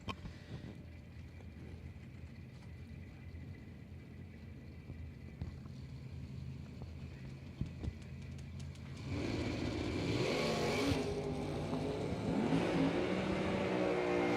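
Chevy II wagon and a big Oldsmobile at a drag strip, a steady engine idle building into a loud, roaring launch as both cars accelerate away, heard from trackside.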